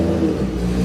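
A race car engine revs hard at a NASA race weekend, a loud, close, steady roar held throughout with no talk.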